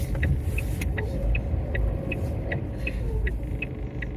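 A car eases into a cramped little car park, its low engine rumble steady and close inside the cabin, with a regular faint ticking of an indicator running throughout.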